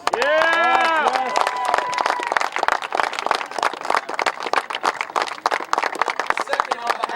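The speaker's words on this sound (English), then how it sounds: "So let's give them a round of applause." A crowd at a beach soccer cup final breaks into a sustained round of applause and cheers, dense clapping that runs steadily for several seconds after a loud vocal shout at the start.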